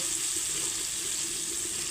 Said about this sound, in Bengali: এইরকম করে হালকা ভেজে নেব বেশি ভাজলে শক্ত হয়ে যাবে